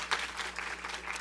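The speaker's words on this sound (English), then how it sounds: "Give all our healthcare providers a little round of applause." Brief round of applause for healthcare providers at a council proclamation event for Minority Mental Health Awareness Month, dense and even clapping from a seated audience heard from a moderate distance.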